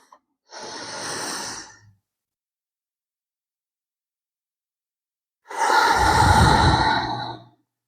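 Two slow, deep breaths during a yoga exercise, an audible inhale followed by a longer, fuller exhale, close and alone with silence between them.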